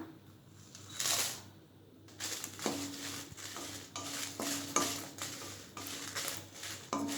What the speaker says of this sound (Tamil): இப்போ அடுத்து காஞ்ச மிளகாய் சேர்த்துக்கலாம்.